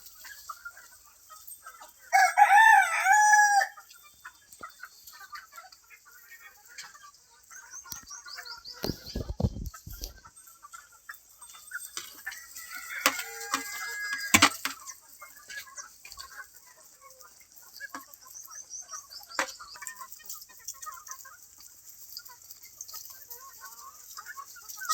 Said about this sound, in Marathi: सावलीला बसलेल्या आहेत सर्व कोंबड्या, बघू शकता.